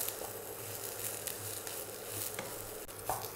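Soya chunks and potatoes sizzle steadily in a pan as they are stirred without pause, a constant crackling fry with light scraping taps from the spoon, heard close and alone.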